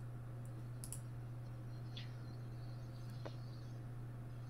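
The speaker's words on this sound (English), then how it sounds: "Sorry, typing is loud." Faint, sparse clicks of typing on a computer keyboard during an online community Q&A, a few isolated key taps spread over several seconds above a steady low electrical hum.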